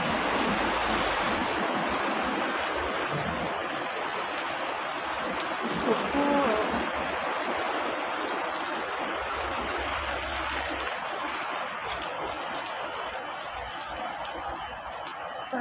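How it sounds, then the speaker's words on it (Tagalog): Heavy rain pours down in a steady, dense hiss, drumming on surfaces all around without letup. "Lakas ng ulan"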